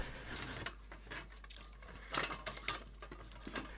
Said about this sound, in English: I decided to remove the screws that held the transformer to the bottom of the enclosure